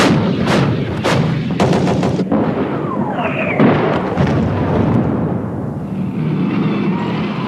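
Military artillery pieces fire a barrage of heavy booming shots in rapid succession, loud and close, followed by rolling rumble and a long whistling trail of a shell.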